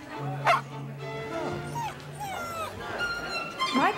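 A dog in a Super Bowl dog-food commercial gives sharp close yips and barks with whimpering between them, over party chatter and talking voices.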